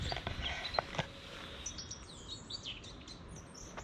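Birds chirping and whistling outdoors in woodland, several sweet calls overlapping against a soft background hiss, fairly close.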